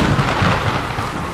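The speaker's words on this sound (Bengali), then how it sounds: "এমন সময় করাত করাত শব্দ করে বাজ পড়ল।" A sharp, booming thunderclap in a cartoon storm, loud and close, with a dense rumbling roll that fills the short moment without any voices.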